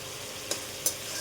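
Tomatoes fry in a pan with a soft continuous sizzle, broken by two sharp scraping stirs about a third of a second apart; close and alone, without talk.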